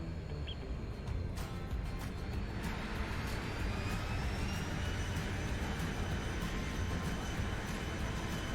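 A Zibo Boeing 737 landing in the X-Plane 11 flight simulator roars with a steady broadband engine and wind rush, a rising whine threading through, continuous and fairly loud with no talk.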